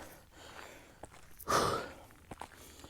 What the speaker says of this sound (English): I'm sorry if I'm breathing hard.